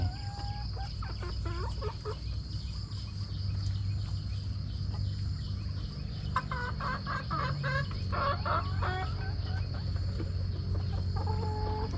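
Chickens cluck and squawk in scattered bursts while feeding, over a steady low hum and a constant high whine, with a livelier cluster of calls in the middle; no talking.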